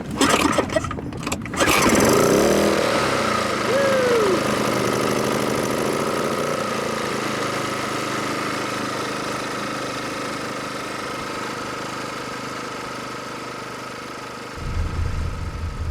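A boat's outboard engine starts on a pull cord after a few rattling yanks, then settles into a steady, close, loud idle with a rough knocking drone that continues to the end.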